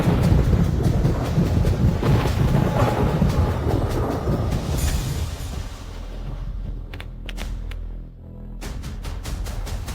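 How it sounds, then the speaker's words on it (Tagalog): Deep thunder rumbles across an outdoor film set before rain, a dense roaring rumble that holds for several seconds, then thins into a lower, quieter murmur with a few sharper cracks near the end; no talking. "Ano yun? Kumukulog."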